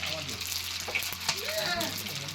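Tempering for a mixed panchratna dal crackles in a large ashram community kitchen, a close, continuous sizzle with stirring, while voices murmur faintly in the background.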